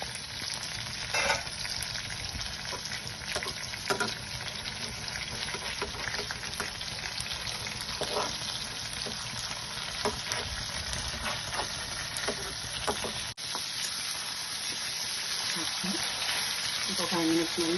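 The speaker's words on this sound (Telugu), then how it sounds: "సిమ్లో పెట్టుకునే ఫ్రై చేసుకోవాలి" Fish frying in a pan over a low flame, a dense, even sizzle with faint crackles that continues steadily throughout, close and fairly loud.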